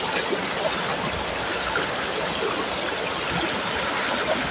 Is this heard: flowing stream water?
yes